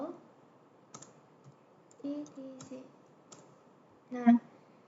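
A few scattered computer keyboard clicks type a short command, faint and sparse, with a voice speaking over them.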